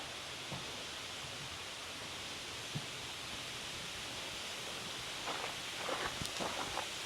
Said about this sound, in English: I can hear the water.